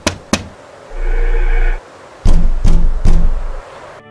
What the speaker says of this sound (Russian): посвящаемый должен трижды постучать в дверь храма